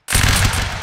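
A musket line volley in the Napoleonic Wars game fires as one loud, near, dense burst of overlapping gunshots with a rolling, booming tail that fills the whole moment alone.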